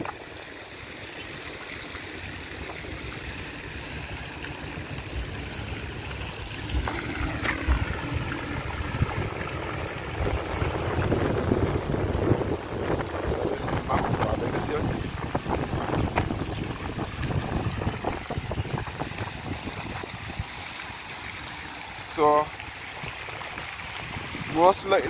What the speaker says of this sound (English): The new water fountain that is built in the shape of Barbados.